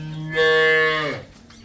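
A cow at a cattle farm where cows and buffalo are for sale gives one long, close, loud moo that rises and then fades, with quiet surroundings.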